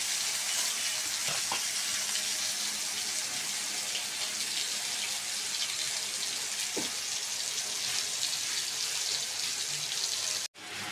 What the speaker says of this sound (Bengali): এই মাছের গুলো একটু সুন্দরভাবে বেজে নিব